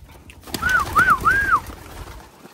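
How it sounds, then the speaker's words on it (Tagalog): Pigeons released outdoors in a racing setting give a few soft, close coos and chirps over a low outdoor rumble, with no talking. "Ayan, ito yung mga ibon natin."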